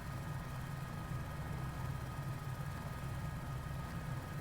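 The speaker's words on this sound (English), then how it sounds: "it just takes some practice to get things back into flow with the helicopter." A helicopter hovering in Microsoft Flight Simulator, its engine a steady, continuous low droning hum with constant loudness and no talking.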